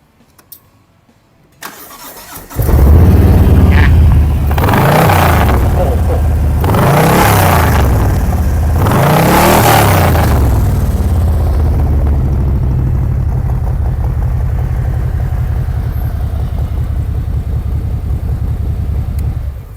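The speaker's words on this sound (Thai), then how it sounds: "ท่อเป็นแวนแซนไฮนะครับ นี่ ท่อนี้เป็นท่อฟูดีนี้เดี๋ยวผมให้ฟังเสียงกันนิดนึงก่อน" A 2021 Harley-Davidson CVO Road Glide 117 in Stage 1 tune, fitted with a Vance & Hines exhaust, starts and then gives three loud, throaty revs in a row before dropping back to a steady, close rumbling idle.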